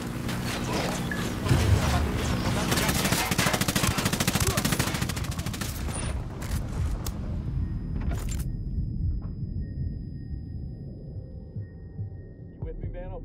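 Rapid bursts of automatic gunfire in the Ghost Recon Fallen Ghosts tactical shooter, dense and loud for several seconds before thinning into scattered shots and quiet ambience, with occasional voices.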